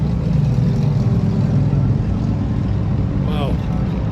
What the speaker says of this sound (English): about 20 motorcycles just went by